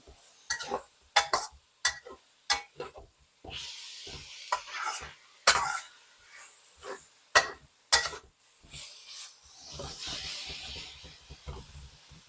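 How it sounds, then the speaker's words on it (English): Stir-fry cooking in a Yosukata wok over a single burner: a steady hiss of sizzling food broken by sharp scraping and tossing clatters at an uneven rhythm, close and fairly quiet. "Let some of this stir up and sizzle here."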